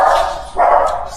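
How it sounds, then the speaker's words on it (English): Dogs bark at something at the door indoors: two loud, close, sharp barks spaced about half a second apart, with no talking. "My dogs heard something at the door."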